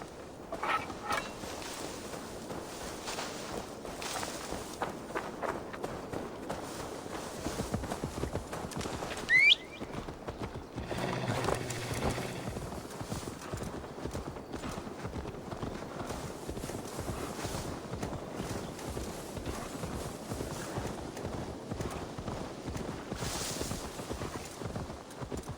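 Steady rapid hoofbeats of a galloping horse pound on and on, with a light wash of outdoor ambience and no talking.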